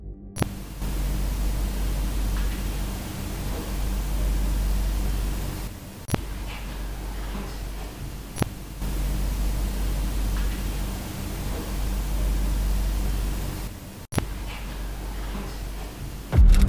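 Continuous hissing white noise from a spirit box device during a ghost hunt, with occasional sharp clicks and brief gaps in the hiss.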